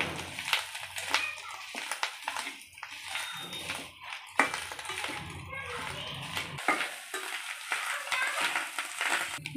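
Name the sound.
stirring fish eggs frying in a pan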